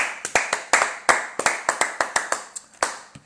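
A church congregation claps together in acclamation: about twenty sharp, evenly spaced claps in a quick steady rhythm, loud and close, with almost no talking.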